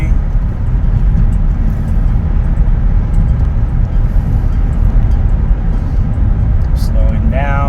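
A BMW converted to electric drive accelerates in high gear, giving a steady, loud, broadband road and motor roar throughout, with a faint rising whine near the end.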